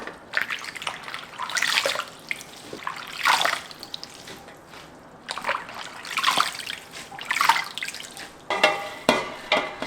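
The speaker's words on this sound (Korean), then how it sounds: "이제 찬물 좀 부어가지고 헹궈야 돼." Cold water pours and splashes over salted young radish being rinsed for white water kimchi, coming in repeated close gushes with trickles and drips between them.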